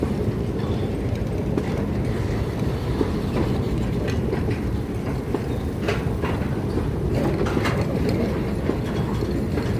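A train rolls steadily past on rails where the tracks cross at two diamond crossings near a junction, a loud continuous rumble with rhythmic clickety-clack wheel beats throughout and no talking.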